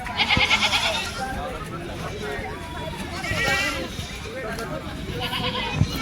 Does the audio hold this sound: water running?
no